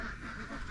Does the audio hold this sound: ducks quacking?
yes